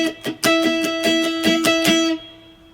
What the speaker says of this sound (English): We're going to strum that in this way.